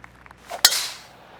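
A golf tee shot in PGA TOUR 2K23: one sharp crack of club striking ball, close and crisp, followed by a short airy whoosh that fades out.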